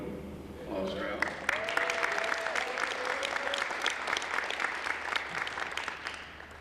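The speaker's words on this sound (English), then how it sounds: "Applause for Alex." An audience applauds a student athlete heading to play college football at a signing ceremony, a steady, fairly distant wash of clapping that holds evenly throughout and fades slightly at the end.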